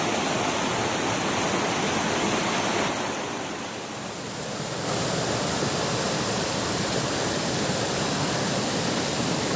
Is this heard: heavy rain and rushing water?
yes